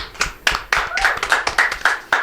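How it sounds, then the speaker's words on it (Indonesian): Hand claps come in a quick, uneven series of about a dozen sharp strikes, close and fairly loud, with no talk over them. "tepuk tangan"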